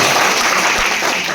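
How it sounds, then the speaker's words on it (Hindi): A brief burst of dense, loud audience clapping for two students, many hands together in a continuous wash without a pause. "एक बार और इन दोनों जय वीरों के लिए जोरदार ताली दीजिए"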